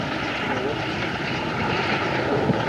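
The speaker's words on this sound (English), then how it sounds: "There's one plane leaving." A propeller plane taxis out and departs from a remote airstrip on a caribou hunting trip, its engine drone steady and moderately loud, with a constant tone running through a broadband roar that swells slightly toward the end.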